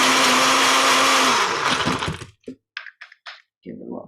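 A blender loudly whirs through a breakfast smoothie with milk for about two seconds, then winds down and stops, followed by a few short knocks and rattles as the jug is handled.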